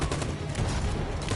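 A volley of rifle fire from a firing squad in Detroit: Become Human, a dense continuous crackle of overlapping shots heard close and loud for just over a second.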